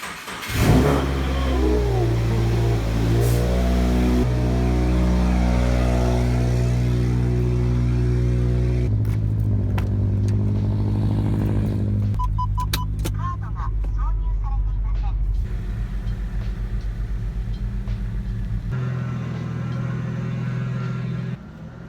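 A car engine, part of a Nissan Silvia being moved around, revs loudly and close, its steady harmonic drone rising and falling over about twenty seconds, with a voice talking briefly in the middle.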